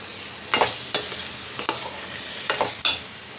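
Ghee being stirred into a thick motichoor laddu mixture in a pan, with several distinct scraping strokes and a faint sizzle between them, close up, with no voices.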